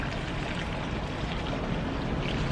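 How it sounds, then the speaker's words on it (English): Fertilized water poured onto a potted red Congo Philodendron, a steady continuous splashing pour running without a break, close and fairly loud with no voices. "I want to go ahead and give it some fertilized water"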